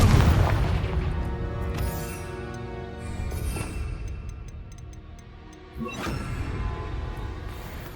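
A Confringo fire spell blasts off in Hogwarts Legacy, a sharp explosive burst near the start and another impact about six seconds in, set amid crackling magical combat effects and ringing tones.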